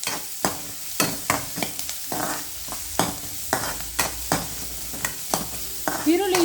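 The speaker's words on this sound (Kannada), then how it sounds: "ಈರುಳ್ಳಿ ಈಗ ಕೆಂಪುಗೆ ಕಾಯ್ತಾ ಇದೆ." Onion fries in a pan for a ladies' finger (okra) stir-fry, a steady oily sizzle broken by about a dozen sharp scraping strokes of a spoon in an uneven rhythm, close and clear.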